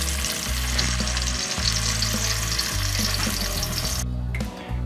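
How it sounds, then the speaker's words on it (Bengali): Fish frying in three tablespoons of oil in a heated pan: a loud, dense, continuous sizzle up close over a low rumble, which cuts off sharply near the end. "এই তেলে আমি আগে মাছটি ফ্রাই করে নেব।"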